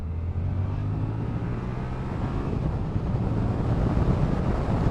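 A Yamaha MT-07 motorcycle accelerates in second gear from about 4,000 RPM onto a national speed limit road, a loud continuous engine roar mixed with heavy rushing wind noise.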